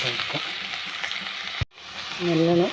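Chopped garlic and ginger fry and are stirred in a pan with a steady close sizzle and hiss, briefly cut off before resuming, with a voice starting over it at the end.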